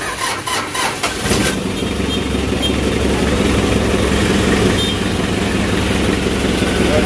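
A Mitsubishi L300 engine cranks briefly, catches and settles into a steady, close, loud idle that runs through to the end.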